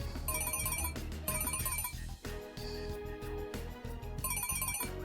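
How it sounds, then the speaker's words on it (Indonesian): A phone ringtone chimes in three repeating bursts, loud and close, with a melodic electronic pattern over background music in an Indonesian drama scene. "Maaf, saya harus terima telepon ini."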